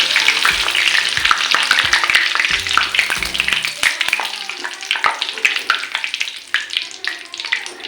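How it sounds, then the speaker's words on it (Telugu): Curry leaves crackle and spit in hot oil in a pan for chicken pakoda, a loud, dense, continuous sizzle with sharp popping bursts from start to finish and no voices. "అలాగే కరివేపాకు కూడా ఇలాగే ఫ్రై చేసుకుందాం."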